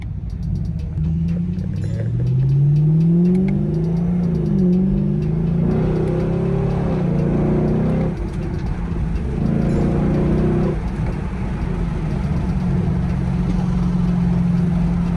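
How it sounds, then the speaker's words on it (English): A Chevrolet Camaro SS with a new intake revs its engine hard through a deep, throaty exhaust, the pitch rising and falling in loud, close bursts over a steady rumble, with no talk. "the car sounds so much like throatier, like it sounds so much deeper"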